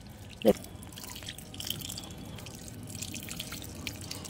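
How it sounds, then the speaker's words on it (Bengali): Water poured onto a plant, a single splash near the start followed by a faint steady trickle and dripping, quiet and close with no talking. "এটাকে জল দিই।"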